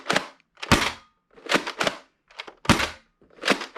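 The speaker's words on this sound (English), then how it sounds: "I can hear the force of the round hitting the the cabinet" Foam darts from a Dart Zone Max Dictator blaster striking a cabinet, heard as a string of sharp, loud cracking impacts in close pairs and bursts with short silences between, no talk.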